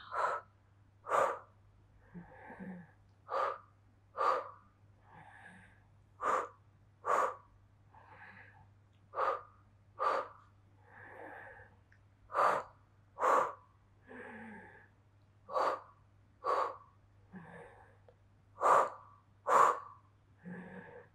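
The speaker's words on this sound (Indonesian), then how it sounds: "buang napas" Steady, paced breaths during a Pilates spinal twist routine: roughly twenty sharp, evenly spaced exhalations, close and clear over a low constant hum, with softer inhalations between them.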